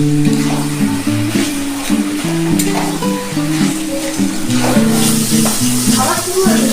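Taro leaves (kochu shak) fry and sizzle in an iron wok, cooked down until dry, a steady close hiss with scraping stirs, while musical tones play over it throughout.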